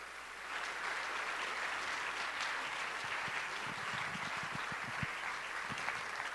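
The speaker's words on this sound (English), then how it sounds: "Let's give them a round of applause." Audience applause at a graduation ceremony for agrarian apprentices as they step onto the stage, a steady wash of many hands clapping that holds evenly throughout, with no talking over it.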